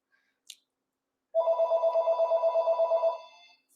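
A phone ringtone sounds close by in a quiet room, one continuous burst of about two seconds with a steady pulsing warble before it cuts off.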